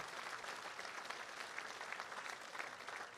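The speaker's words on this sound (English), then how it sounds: "Let's give all of our donors so far a big round of applause." Gala audience at the Minnesota Landscape Arboretum applauding donors: sustained, even clapping from a sizable room, faint and a little distant, with no break for the full few seconds.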